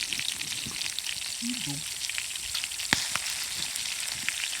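Food sizzles and crackles in a pan over a forest campfire beside a glacial lake, a steady close frying hiss with occasional pops, while someone speaks briefly.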